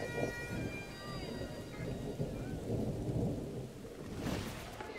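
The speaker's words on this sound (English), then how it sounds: "moments later, the skies open and down comes the dreaded rain" Steady rain falls with deep, rolling thunder during an outdoor wedding, heard at moderate distance, with a faint voice in the background.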